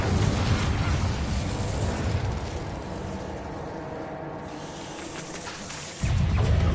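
Confringo explosive spell blasts in Hogwarts Legacy, heard as a loud, sustained rumbling roar of fiery bursts that dips briefly, then surges again near the end.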